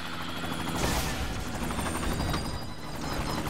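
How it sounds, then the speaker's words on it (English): A helicopter in the video game Typing of the Dead: Overkill thrums steadily while rapid gunfire rattles over it, loud and dense with no talk. "So you just scream at the helicopter and crash it"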